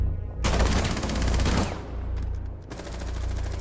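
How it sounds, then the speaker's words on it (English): Rapid automatic gunfire in the tactical shooter game Rainbow Six Siege, a loud dense burst that stops abruptly, then after a short gap resumes as quieter, steadier shooting. "The guy's shooting."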